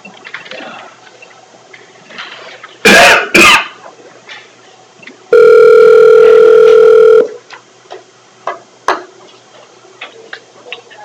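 During a supervisors' meeting, a loud, steady telephone dial tone sounds alone for about two seconds. Before it come a couple of sharp coughs or throat clearings and scattered soft room noises, with faint clicks and rustles afterward.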